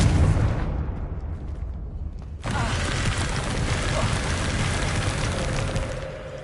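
Confringo blasting spell in Hogwarts Legacy, a loud booming burst that erupts suddenly after a quieter rumbling lead-in, then rolls on as a sustained crackling roar.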